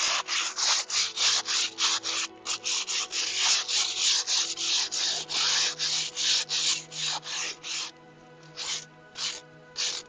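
Rhythmic back-and-forth scraping of a grill grate with a balled-up wad before steaks go on, a rapid series of loud, close, raspy strokes that slow and thin out near the end.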